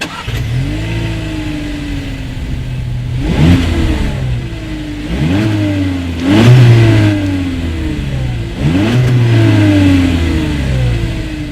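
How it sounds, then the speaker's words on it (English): A 2019 Volkswagen Jetta revs up through the exhaust repeatedly, four or five rising blips, each dropping back to a rumbling idle between them, close by. "Here is that exhaust clip."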